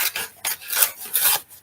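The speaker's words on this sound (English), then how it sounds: "So I'm doing this little hacky cut and trim thing underneath." Gift wrapping paper being cut and trimmed, a close, loud rasping scrape repeated in several quick strokes with no voices.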